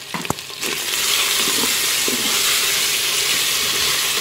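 Potatoes sautéing and browning in a Cookeo multicooker, a few clicks and scrapes at first giving way to a loud, steady, close hiss of frying that fills the rest of the clip.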